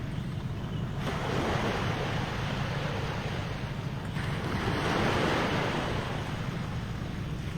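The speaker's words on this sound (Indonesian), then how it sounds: "suara yang terdengar itu adalah suara ombak, dan ini adalah lautnya ya." Ocean waves washing onto the seashore at dawn near a market in Bulukumba, a continuous broadband roar with swelling surges, mixed with wind buffeting the microphone.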